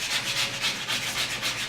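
Hand sanding of a car's clear coat with 1500-grit sandpaper, a soft, steady scratching rub repeated in quick, even back-and-forth strokes, close up with no talking.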